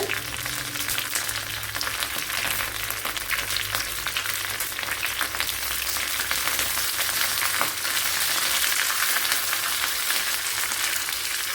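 Curry leaves and dried red chillies fry in hot oil for a Kerala sadya dish, making a steady, close crackling sizzle throughout with a faint low hum beneath.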